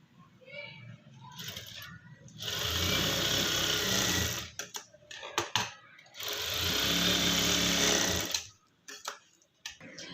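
A sewing machine stitches a dress co-ord set, the neck collar seam run twice, in two long steady whirring bursts separated by short pauses with handling clicks and fabric shuffling between them.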